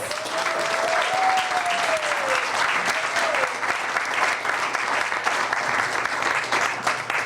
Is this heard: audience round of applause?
yes